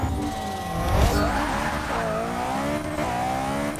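A 1965 Mini Cooper S with a 700HP sleeper build in Forza 6 revs hard off the line, its engine note climbing and dropping through gear changes with tire squeal, loud and continuous throughout.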